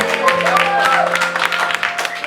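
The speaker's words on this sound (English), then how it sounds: "Round of applause for him tonight, everybody." Audience applause at an evening event in South Haven, a dense burst of clapping up close with a faint tonal hum underneath and some voices mixed in.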